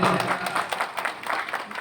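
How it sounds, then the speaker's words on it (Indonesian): Moderate applause from an audience at an Islamic religious gathering, greeting a motivator with a steady patter of many hands, slightly distant and fairly soft. "Tepuk tangan untuk Pak Motivator"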